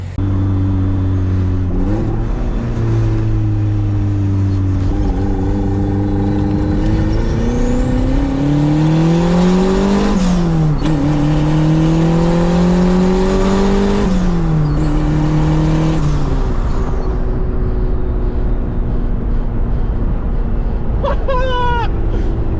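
A turbocharged Mazda Miata drives and accelerates, its engine droning loudly from inside the car and rising in pitch through several pulls, with shifts between them and a short whistly chatter near the end.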